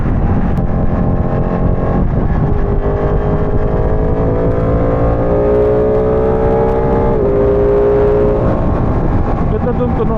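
A Ducati Panigale 959 Corse motorcycle without an exhaust fitted howls close-up through its open intake, revs rising and falling in long sweeps during a ride, with wind rush throughout.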